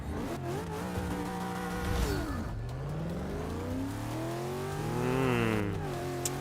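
A racing car with a positive displacement supercharger accelerates hard in Forza 6, its engine revving up through several gear changes, loud and close, with a brief tire squeal.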